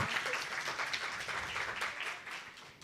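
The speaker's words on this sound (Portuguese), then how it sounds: "esses aplausos me acolhem." Audience applause fills a hall at a speaking event, steady broadband clapping at moderate volume throughout, with a faint voice briefly underneath.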